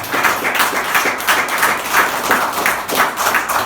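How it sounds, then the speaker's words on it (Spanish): A congregation at a church service breaks into applause, a dense, steady clapping from many hands that stays loud and even throughout, with a faint voice underneath. "Denle un aplauso."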